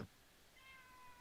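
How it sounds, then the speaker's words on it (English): A single faint, short cat meow rises softly after a brief knock, in an otherwise quiet room. "That's my cat."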